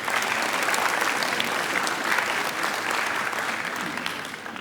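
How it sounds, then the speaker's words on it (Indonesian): Sustained applause from a large audience fills an Indonesian climate conference plenary hall, steady dense clapping throughout with no speech over it. "Tepuk tangan untuk Anda semuanya."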